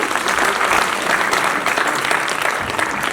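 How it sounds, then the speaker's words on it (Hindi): Loud, dense applause from an audience at a cultural festival honouring ceremony, a steady wash of many hands clapping throughout, close and full, without voices over it. "जोरदार तालियां उनके लिए।"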